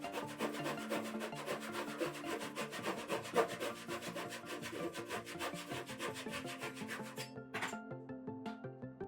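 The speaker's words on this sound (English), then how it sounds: "In the next step I like to use my Ryoba Japanese saw, because you can lay it against the diagonal edge" A Ryoba Japanese pull saw cutting oak at an angle, fast rhythmic rasping strokes in a steady continuous run, close and clear with no talking.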